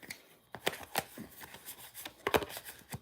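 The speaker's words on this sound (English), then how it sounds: "I'm going to shuffle these for you, Emmy, and we're going to do yours." Tarot-style cards are shuffled by hand for a past life reading, giving a quick run of crisp riffling flicks and soft slaps in an irregular rhythm, close and fairly quiet.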